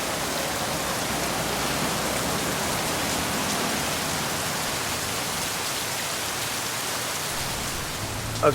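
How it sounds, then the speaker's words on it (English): Heavy rain pours steadily in downtown Winter Garden, Florida, a dense, even hiss of water on surfaces that holds close and loud for the whole stretch without letting up. "it's pouring with rain again"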